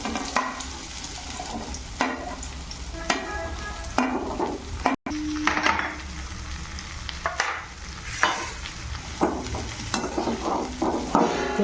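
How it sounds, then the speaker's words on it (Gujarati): Sliced okra (bhindi) frying in about three spoons of hot oil in a home kitchen pan, a steady sizzle with repeated scraping strokes of a spoon stirring, close and fairly loud, with no talking. "ભીંડાને બરોબર તેલમાં શેકી લેવાનો છે"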